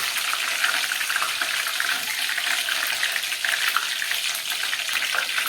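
Food frying in smoking hot oil gives a steady, loud, close crackling sizzle that carries on without a break, with no voices.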